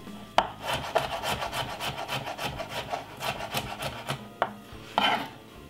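A knife finely chops two garlic cloves on a cutting board, giving a rapid series of close, crisp taps with a few sharper knocks, and no voices.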